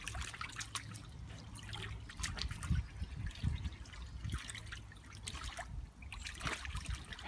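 Water trickles and drips around a dog's new pool, a faint run of irregular splashes and small plinks over a quiet wet background, with no talking.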